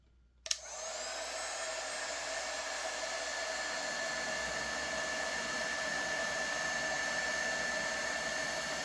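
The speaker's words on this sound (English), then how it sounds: "How it handles the heat gun." A heat gun powered by an AFERIY portable power station clicks on and then blows a steady, loud whooshing drone with a faint high whine that holds unchanged for several seconds, with no voices.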